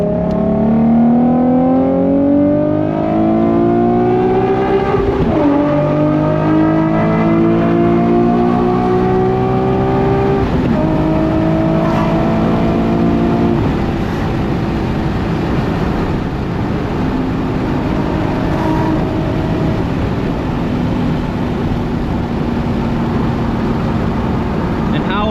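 A dream sports car's engine screams through rising gear pulls while being driven, loud and close, each shift breaking the climbing whine before it builds again over a steady road rush.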